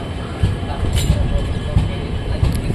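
A passenger train on the Chitradurga–Bangalore line runs through a station's platform two without stopping, giving a steady close rumble with faint rail knocks, and a voice may be talking over it.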